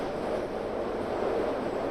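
A subway train car rolls along the rails in a steady, dense rumble that fills the space evenly, heard from inside the carriage with no voices.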